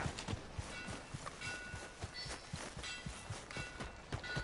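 A horse gallops in Red Dead Redemption 2. Its hooves beat in a steady, close, rhythmic clip-clop that carries on without pause and with no talk over it.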